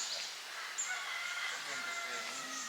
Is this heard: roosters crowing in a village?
yes